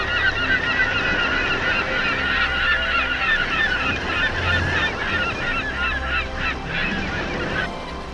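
A large flock of coastal geese honks continuously, many overlapping calls at moderate distance, with a low rumble of wind or surf underneath.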